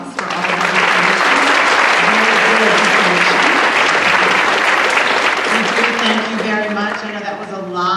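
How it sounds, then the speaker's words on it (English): An audience at a college panel night applauds the panelists, a full steady round of clapping with voices speaking and calling over it, easing off slightly toward the end. "give our panelists a round of applause"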